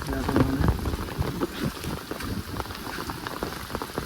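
Heavy rain pours down in a village on a rainy day, a dense, continuous hiss of drops striking surfaces close by, with a voice faintly audible beneath it.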